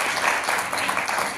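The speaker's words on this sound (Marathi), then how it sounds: "सो परत एकदा शीपमेक व्हेंचर्ससाठी टाळ्या होऊया" An audience applauds at a company's sixth anniversary event, producing a dense, steady wash of clapping that holds evenly throughout without a break.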